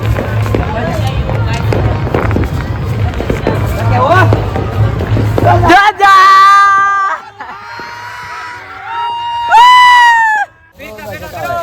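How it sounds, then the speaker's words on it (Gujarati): Firecrackers burst in quick, crackling volleys during a Makar Sankranti kite-flying celebration. The crackle is loud and dense under chatter, then cuts off, leaving voices and high squeals. "જો આ ફટાકડા ફૂટે."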